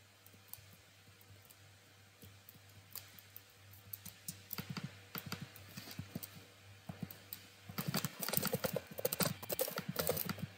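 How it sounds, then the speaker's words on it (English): Keys on a computer keyboard being mashed, starting as scattered clicks and building into a dense, rapid clatter near the end, close-miked over a low hum. "Just spam my keyboard."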